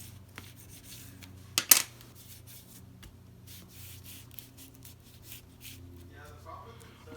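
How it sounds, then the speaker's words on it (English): Paper burnished onto a handmade card base, with a brief close rubbing swipe in an otherwise quiet room. "Maybe give it a little burnish there."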